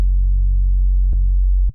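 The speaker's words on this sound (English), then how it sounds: "let's go for like a sine wave. Let's take this analog BD sine." A pure sine-wave bass tone from the analog BD sine oscillator in the Serum 2 synthesizer, held steady and loud for almost two seconds with two brief clicks, alone with no voices.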